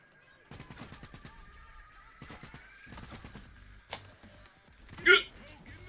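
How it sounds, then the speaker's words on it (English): Shotgun blasts from the video game Payday 3, a quick run of sharp gunfire bursts followed by a couple of isolated louder shots, with a voice speaking beneath the action. "I can just give this lad both barrels"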